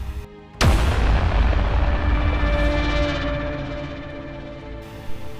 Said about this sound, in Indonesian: suara ledakan keras terdengar di kejauhan.